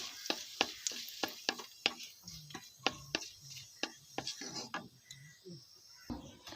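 Nigella seeds and a torn dried red chilli frying in white oil in a kadai, a light sizzle broken by a series of sharp, evenly spaced utensil clinks and taps, fairly faint and close.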